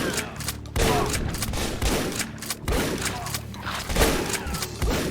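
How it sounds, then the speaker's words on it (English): Shotgun blasts in the video game Ashes 2063 boom out at a steady pace, roughly one heavy shot per second, loud and close, with thuds and clatter between them. "Just use the shotgun on everybody here."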